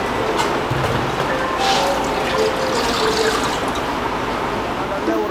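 Water pours steadily into a container while a soda flavour batch is being mixed, a continuous splashing, trickling stream at close range with no break.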